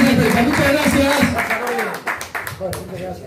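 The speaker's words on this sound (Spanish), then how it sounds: "un fuerte aplauso" Scattered applause at a football press conference, clapping under loud talking voices, with sharper claps standing out in the second half.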